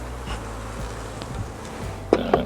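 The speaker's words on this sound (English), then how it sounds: "It's covered in bees." A faint, steady buzz of honeybees on a hive frame during a hive inspection hangs over low rumbling background noise, with a couple of brief louder knocks near the end.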